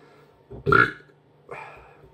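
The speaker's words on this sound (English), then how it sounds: "If I burp, sign of good beer." After a sip of Belgian beer, a man lets out a loud, close burp, followed a moment later by a second, softer and shorter one.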